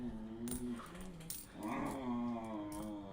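Several dogs, including a young German Shepherd, whimper and growl close by in a short burst of whining and rumbling, with light jangling in the background; no talking.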